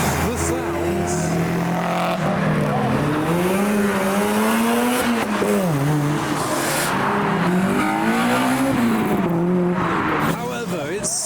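Cars revving hard with tires squealing at a roadside car meet, engines rising and falling continuously and loudly over the whole stretch, with crowd voices and talk mixed underneath.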